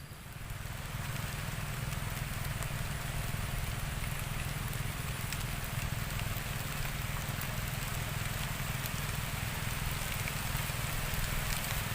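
Rain falling outdoors at a freshwater fishing spot for tilapia, a loud, dense and unbroken hiss that holds steady for the whole stretch after a brief softer start.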